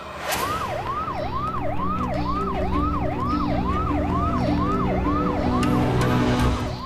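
An ambulance siren wails in a fast repeating up-and-down pattern, loud and close, cycling steadily throughout over a low background rumble, with no talking.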